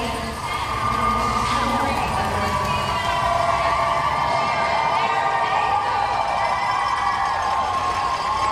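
Large outdoor crowd at the Boston Marathon start in Hopkinton cheering, whooping and shouting continuously, loud and close, with applause blended into the steady roar.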